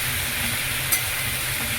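Vegetables with drumstick leaves being stirred in a frying pan, a steady close sizzle with faint scraping throughout and a brief bright click near the middle.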